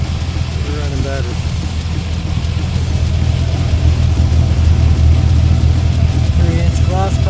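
A 1996 Ford F150 with a carbureted 5-liter engine idles through 3-inch glasspack mufflers on an outside-frame exhaust, giving a steady, loud, deep burbling rumble that continues throughout.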